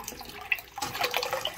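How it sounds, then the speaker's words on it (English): Water running steadily into large storage tanks in a plumbing job, a continuous close splashing and trickling rush with a slight rise in intensity partway through, no talk. "We've just literally got the water running, the big tanks filling."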